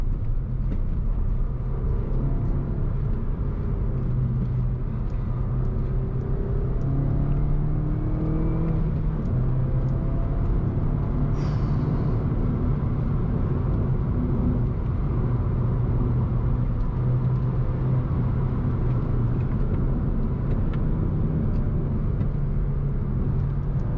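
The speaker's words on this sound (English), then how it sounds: "I can hear the turbo spooling, and it sounds bloody glorious" A turbocharged engine in an R55 Mini JCW hums steadily from inside the car while driving, with a faint turbo whine and road rumble that hold a constant level throughout, no talking.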